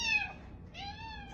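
A house cat meows twice in quick succession, close and clear, each call rising then falling, with a short gap between them.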